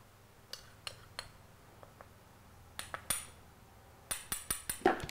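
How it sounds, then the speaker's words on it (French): A lid clicks back onto a kitchen mixer bowl, a series of small sharp plastic clicks and taps, sparse at first and then coming in a quick cluster near the end, quiet and close with no talk. "Je replace le couvercle."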